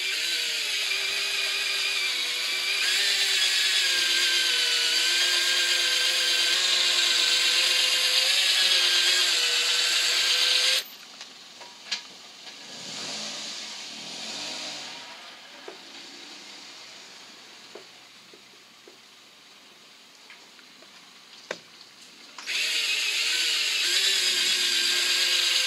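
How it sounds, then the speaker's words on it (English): A power drill fitted with a foam pad polishes a plastic headlight with scratch remover, giving a loud, steady motor whine for about eleven seconds. It then stops into near quiet before the whirring starts again at the end. "Use a foam pad on a power drill adapter."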